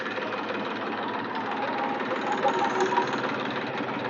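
A tractor engine runs at a steady rumble on a farm as a woman attempts to drive it, loud and continuous throughout with faint voices mixed in.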